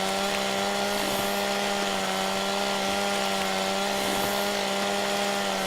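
A chainsaw in the farming game Farming Simulator 17 runs steadily while cutting trees in a forest, a loud continuous buzzing drone with a steady pitch and no voices.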